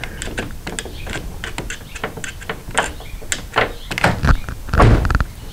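A faulty car door latch that won't close clicks and clunks repeatedly as it is worked back and forth during repair, with louder thunks near the end.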